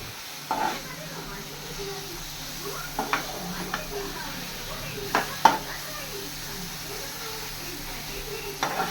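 Mint carrot rice fries in oil in a pan with a faint steady sizzle, interrupted by occasional soft stirring clinks and scrapes, with a voice speaking over it.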